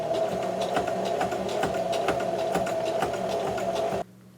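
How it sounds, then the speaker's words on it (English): A sewing machine running a fabric seam at its shortest stitch length, a fast, steady mechanical chatter of rapid regular stitches close up for about four seconds before stopping abruptly. "So now I'm just going to sew along this line with the shortest stitch length I have."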